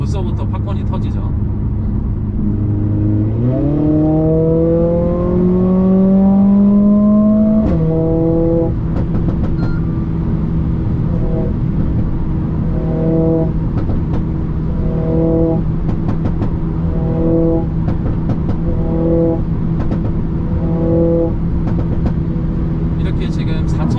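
A Mercedes-AMG CLA45S in race mode revs up smoothly, holds high, then drops, followed by a run of evenly spaced crackling exhaust pops over a steady close engine drone, with someone talking throughout.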